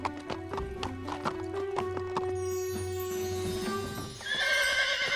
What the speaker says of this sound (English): What a pretty shiny horse you are.